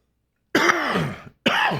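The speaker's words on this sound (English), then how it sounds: "I'm gonna apologize for my cough" A man coughs twice, two harsh throat-clearing bursts close to the microphone, the first longer and the second cut short, in an otherwise silent room.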